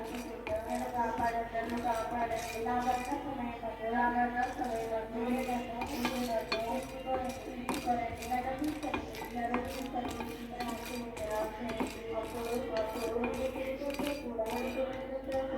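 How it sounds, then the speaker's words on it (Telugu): Spices for masala tea roast in a metal pan while a spoon stirs nonstop, giving a rapid, continuous scraping and clinking rhythm with a voice talking over it. "చెయ్యి ఆపకుండా తిప్పుతూనే ఉండండి"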